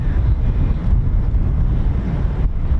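Strong wind buffets the microphone at the RAF Lakenheath airfield, a loud, continuous low rumble with gusty swells and no clear speech over it.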